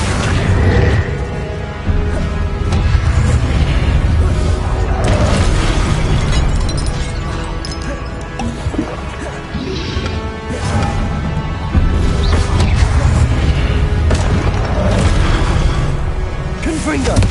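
Repeated Confringo blasting-spell explosions in Hogwarts Legacy, loud booms and bursts that recur through a dense, busy stretch of game sound with mechanical clatter in between.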